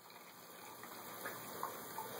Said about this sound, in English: Are you filling your cup up?